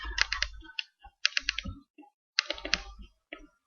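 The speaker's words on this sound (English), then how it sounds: "Just a regular bunch of keys." A regular bunch of keys jingles and clinks in three bursts of metallic rattling, with a faint extra jingle at the end, close by and alone without talk.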